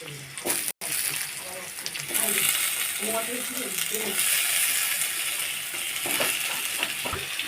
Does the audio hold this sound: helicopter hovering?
no